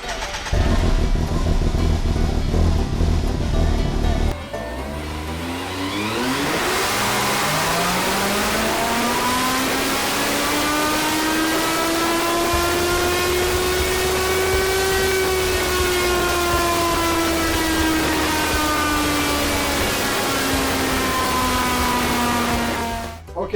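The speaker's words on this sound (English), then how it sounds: "we just finished running with the new clutch weights added" Can-Am X3 side-by-side engine on a dyno with new clutch weights, idling roughly, then winding up into a long loud sustained rev with a rising and slowly falling whine before dropping off at the end.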